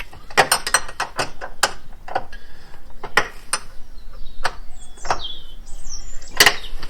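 A ratchet works stiff bolts on an Abarth car, giving close, sharp clicking bursts in irregular runs with short pauses between strokes, loud and alone with no talking.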